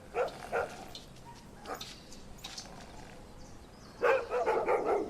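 Street dogs in Campo Grande barking in short sharp bursts, a couple of quick barks at the start, scattered yaps in the middle and a denser cluster near the end, moderately distant over steady outdoor background noise.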